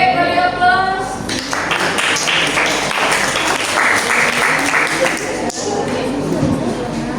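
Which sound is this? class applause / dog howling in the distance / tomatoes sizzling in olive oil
class applause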